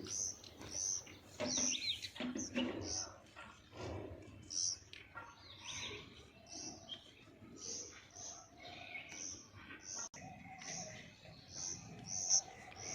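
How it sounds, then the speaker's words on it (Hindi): Faint, high morning bird chirps repeat throughout, scattered and distant, with quiet ambient sounds and some soft movement underneath. "सुबह सुबह चिड़ियों की आवाज़ कितनी प्यारी लगती"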